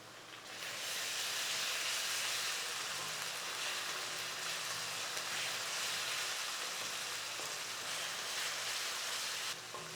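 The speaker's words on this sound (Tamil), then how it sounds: "இஞ்சி பூண்டு பேஸ்ட் சேர்த்துட்டு நல்லா ஒரு ஒரு நிமிஷம் வதக்கி விட்டுட்டு" Ginger garlic paste sizzles in a hot pan with sautéed onions and tomato while chicken thokku biryani is cooked, a steady, close broadband hiss that runs unbroken for nearly the whole stretch without any talk.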